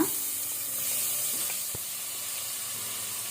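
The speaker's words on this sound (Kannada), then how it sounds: "ಈಗ ಈರುಳ್ಳಿ ಸ್ವಲ್ಪ ಲೈಟ್ ಪಿಂಕ್ ಬರುವ ತನಕ, ಗುಲಾಬಿ ಬಣ್ಣ ಬರುವ ತನಕ ಫ್ರೈ ಮಾಡ್ಕೊಳ್ಳುವ" Onions frying in hot oil with garlic over low to medium heat for dal tadka, a steady soft sizzle and hiss with a faint clink, no talk.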